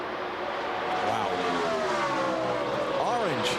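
NASCAR Winston Cup stock car engines roar at Indianapolis Motor Speedway during the 2003 Brickyard 400, a loud continuous rising and falling whine of several cars passing, with crowd noise and commentary over it.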